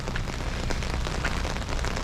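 Rain patters steadily on surfaces outdoors at a job site on a wet day, a dense close crackling hiss with no talking.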